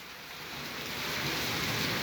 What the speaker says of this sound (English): Now it's raining hard.